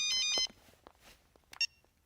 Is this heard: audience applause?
no